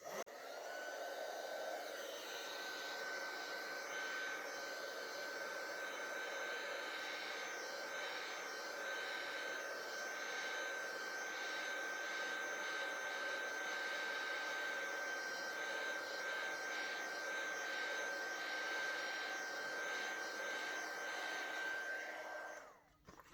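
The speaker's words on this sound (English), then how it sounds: "I'm going to come in with my heat tool here and just give it a rub around" Crafting heat tool blowing hot air over ink on a handmade card, a steady close whooshing hiss with a thin whine that runs unbroken for over twenty seconds before switching off.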